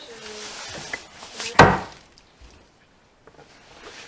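A single sharp knock of a piece of wood hitting a hard floor, fairly close, amid quiet room noise, followed by near silence.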